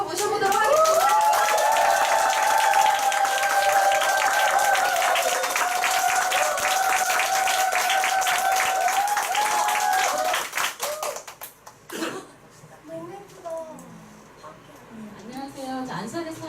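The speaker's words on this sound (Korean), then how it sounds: "엄청난 박수와 함성으로 앞으로 모셔보도록 하겠습니다." A meeting audience breaks into dense, sustained applause with some cheering for about ten seconds. The applause then fades and a single voice begins speaking.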